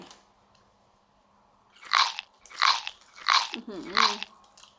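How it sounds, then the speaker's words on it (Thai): Crunchy fried seaweed snack sheets bitten and chewed up close, four loud crisp crunches in a steady rhythm after a quiet start, with a brief murmur between the last bites. "เรามาเริ่มกินสาหร่ายกันนี่นะคะสาหร่าย"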